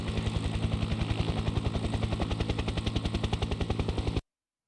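Helicopter-like rotor chopping from a flower pot in the Noah's Ark video game, a steady rapid rhythmic thudding pulse lasting about four seconds before cutting off abruptly, with no talk.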